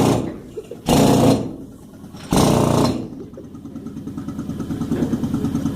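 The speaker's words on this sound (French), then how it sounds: "alors pour concasser les grands blocs, le marteau piqueur" A jackhammer breaks up large rock blocks in a quarry: two loud bursts of rapid hammering, then a steady rattling pulse, with someone narrating over the noise.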